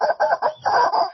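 A rubber chicken toy squawks in a quick series of about five honking, clucking squeals, loud and close, with short gaps between bursts and no talking.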